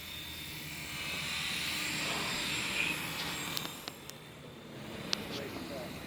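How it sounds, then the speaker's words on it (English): A small 270 Fusion RC helicopter flies over a front yard, its rotor giving a steady high whine at moderate distance, with a few clicks and taps, and a person speaks over it. "This helicopter is perfect, guys, for your front yard."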